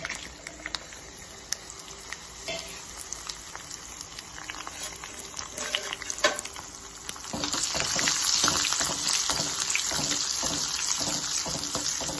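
Dried garlic and dried red chillies frying in oil for Indian dhal, a close sizzle with scattered clinks that swells louder and denser partway through as the ingredients hit the hot oil.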